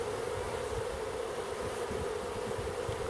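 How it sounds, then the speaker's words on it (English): Honey bees stream out of a hive in a steady, continuous buzzing drone with faint wind noise, no voices. "Boy, there's a lot of bees coming out."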